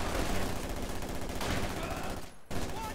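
MG42 machine gun firing in a strategy video game battle, rapid dense bursts of gunfire layered with other combat noise, loud and continuous with a brief dip near the end, under occasional commentary.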